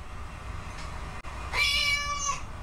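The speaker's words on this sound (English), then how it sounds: "she for sure was trying to dupe her audience that it was in fact Julia meowing" A cat gives one clear, fairly close meow near the end of a short stretch of quiet room noise.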